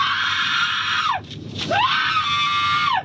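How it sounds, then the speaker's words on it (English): Piercing, sustained screams from people recorded on police body cam footage, loud and close, with a brief dip in the middle before a second rising scream. "They're screaming."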